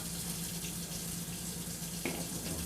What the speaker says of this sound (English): let me get this water running here